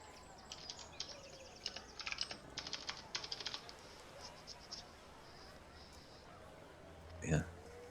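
Quiet clicking of a computer keyboard being typed on, in a few short irregular bursts under a faint background, with one louder knock near the end.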